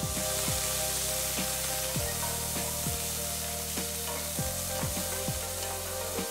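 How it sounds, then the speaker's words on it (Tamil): Chopped onion sautés in hot oil with cinnamon, cloves, cardamom and stone flower for a dhaba-style matar masala, giving a steady close sizzle broken by repeated scraping stirs of the pan. "1 வெங்காயம் பொடியாக நறுக்கினதை போட்டு நல்லா வதக்கணும்."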